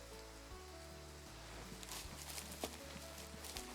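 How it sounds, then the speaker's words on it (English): Soft, steady rainfall in the hunting game Way of the Hunter patters quietly over a low hum, with faint footstep-like thuds and occasional drips mixed in. "The rain, that's peaceful."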